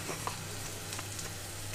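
Ginger, garlic, three green chilies, turmeric, chili powder and coriander powder frying in hot oil for a tomato boondi curry, giving a steady soft sizzle with faint crackles and a low hum underneath, no talking.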